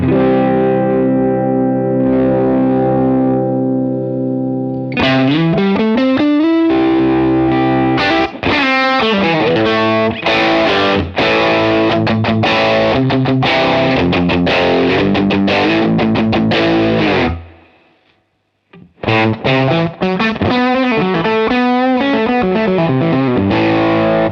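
A long, loud overdriven electric guitar passage on a multi-overdrive emulation unit, the tone shifting as the mood knob turns, with busy riffs, bends and a brief pause before playing resumes, no voices.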